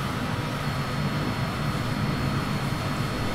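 Continuous roar of an airplane engine in a flight game, a steady loud drone with a low hum and broad hiss that never lets up, with no voices over it.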